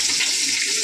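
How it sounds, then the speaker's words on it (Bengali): Eggs frying in hot oil in a home kitchen, a steady bright hiss and sizzle that fills the short moment without pause, close and fairly loud with no voices. "সুন্দর করে ডিমগুলো ভেজে নেব।"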